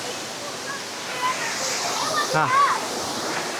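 Steady broadband rush of a waterfall on a mountain hike in Hunan, near and continuous, with a brief exclamation from a voice near the end.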